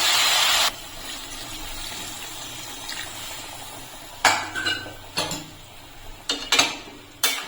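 Water gushes into a pan of pumpkin stem curry in a short loud pour, followed by quiet cooking and several sharp clinks of a utensil against the pan.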